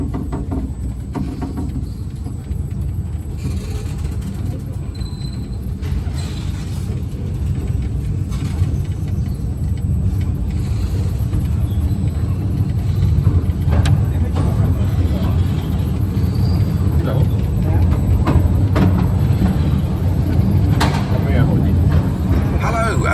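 A steady low rumble of a small narrow-gauge underground mail train running through a tunnel in London, continuous and fairly loud, with a voice speaking over it throughout.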